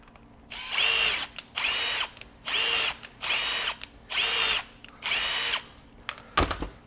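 A power drill spins a Thread Wizard stainless steel wire brush over rusty bolt threads in six even bursts of whirring, each about half a second long with short pauses between, and a sharp clunk comes at the end.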